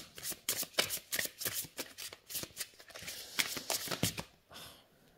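A new oracle card deck being shuffled by hand, a quick run of soft riffling and sliding card flutters heard close up and fairly quiet, with no speech.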